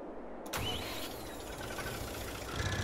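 Farming Simulator 22 Bührer tractor engine cranks and catches after a brief quiet lead-in, then settles into a steady mid-pitched rumble, close and alone.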